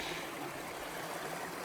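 Milton Creek flows beside a trail in Northern California, a soft, even rushing of water that stays faint and constant throughout with no voices.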